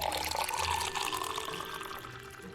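Water pours and trickles steadily in Final Fantasy XIV, a close splashing, running-liquid sound that gradually eases off, with no talking.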